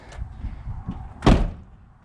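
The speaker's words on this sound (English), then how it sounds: "let me close the other door" A door on a second-generation Dodge truck swings shut with one solid, loud slam near the middle, after a few soft handling knocks and shuffles.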